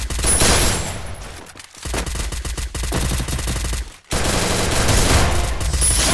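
Heavy automatic gunfire in the first-person mode of the video game Free Fire, loud sustained bursts of rapid shots broken by two brief pauses, close and dense, with no talk.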